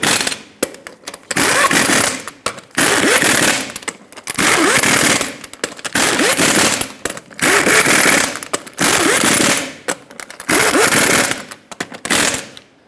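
An impact wrench drives the eight lug nuts onto a rear wheel of a Ford E-350 van in a cross pattern. It fires in loud, close bursts of rapid hammering, each lasting about a second, separated by short pauses, repeated about eight times.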